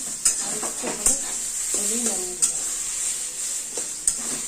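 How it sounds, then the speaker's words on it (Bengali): A fish roe curry is stirred in a pan, with a spoon scraping and clinking at intervals over a constant bright sizzle, close and fairly loud, and no talk. "সারাক্ষণ নাড়তে হবে না নাড়লে নিচে লেগে যাবে"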